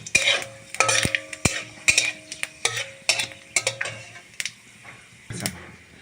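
A bay leaf and panch phoron crackle in hot oil for a rohu fish and potato curry, with repeated sharp scrapes and knocks of a spatula stirring in the pan.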